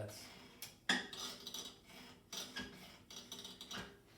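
Faint metallic scraping and rubbing from a worn Pegas scroll saw, where a ball bearing on the end of a screw rides the arm; uneven and intermittent, with small clicks, close by and quiet.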